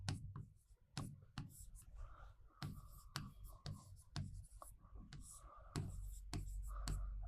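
During a history lesson a teacher writes notes, producing a steady series of close scratching strokes and taps in irregular rhythm, with faint murmured speech underneath.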